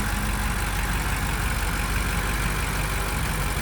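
BMW F90 M5 V8 engine idling after maintenance, a steady low rumble heard up close with a constant even drone and no revving.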